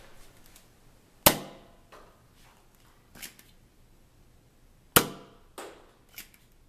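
Nerf Triad blaster firing darts from just above, two sharp loud snaps a few seconds apart, each followed by fainter clicks and rattles of handling in an otherwise quiet room.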